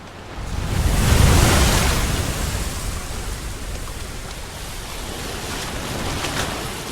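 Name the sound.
ocean waves crashing against cliffs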